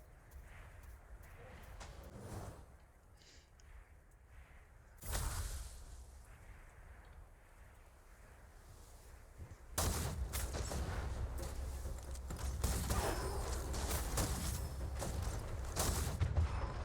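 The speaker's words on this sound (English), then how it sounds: "now I just have to jump and shoot the rocket launcher and do even more damage" Rocket launcher fire in the shooter game Gunfire Reborn, with sharp blasts and bursts of gunfire arriving in loud clusters, heaviest in the second half, amid game noise and a speaking voice.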